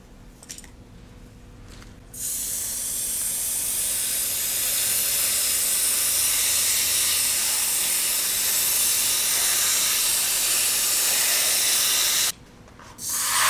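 Water sprays in a steady, loud hissing stream from about two seconds to twelve seconds, washing dirt off a tomato plant for a solar-powered deep water culture system. Quieter handling noises come before and after the spray.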